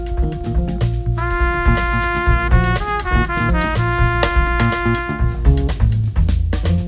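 A band plays a loud, tonal ensemble phrase that starts on the fifth of the song's key, with sustained chords and rhythmic accents across several bars.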